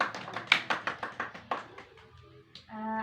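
A small counseling group in a classroom session claps briefly: a handful of distinct, fairly quiet hand claps at an even pace that thin out and stop, with a voice starting up at the end.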